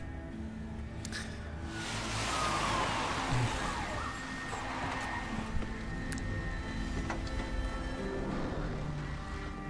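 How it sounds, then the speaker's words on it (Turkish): Police car sirens wail steadily in The Evil Within video game, a continuous wash of overlapping sirens at moderate loudness throughout, with faint clattering and game ambience underneath. "Ne oldu lan burada bu kadar polis aracı kimi durdurmaya çalıştı?"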